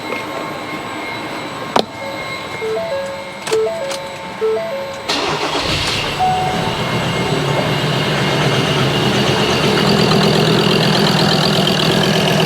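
A Ford car engine cranks with a few electronic chimes and clicks first, then catches and settles into a steady running drone that grows slightly louder, heard close with no talking.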